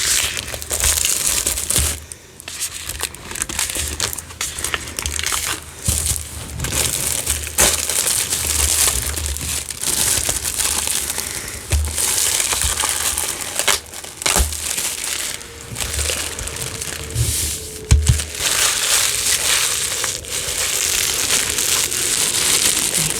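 Thin plastic wrapping on new books crinkles and crushes continuously and up close, with steady crackling and brief louder crunches.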